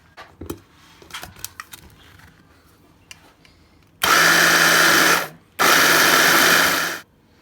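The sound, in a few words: food processor grinding biscuits, walnuts and cinnamon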